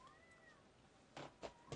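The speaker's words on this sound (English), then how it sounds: "You hear that cat? That's the cat outside." A cat meows outdoors, heard faintly from a distance as three short calls in quick succession after a stretch of quiet room tone.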